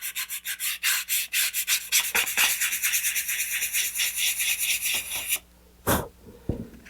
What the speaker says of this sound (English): so now I'm just going to sand it down